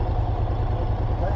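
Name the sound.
motorcycle engine idling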